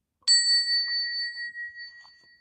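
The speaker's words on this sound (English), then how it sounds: "we're going to ring the bell real quick before we get started" A single bell is struck once with a clear, bright ding that rings on and slowly fades in a quiet room.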